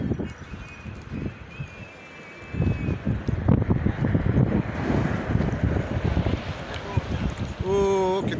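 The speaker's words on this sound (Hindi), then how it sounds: "कितनी तेज हवा है" Strong gusting wind during a dust storm in an outdoor market street in Salalah, Oman, roaring and buffeting the microphone continuously, with broadband rushing that swells after a brief lull.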